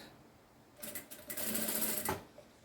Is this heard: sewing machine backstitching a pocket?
yes